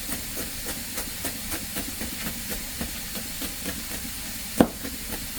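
Dal frying in a pan, a continuous close sizzle and hiss with soft rhythmic stirring scrapes and one sharp knock near the end, no voices.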